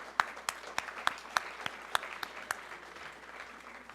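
Audience applause for a panel at a juvenile justice and race discussion event: a round of sparse, individual claps with distinct sharp hand strikes spaced unevenly, moderately distant in a hall, fading out after a few seconds.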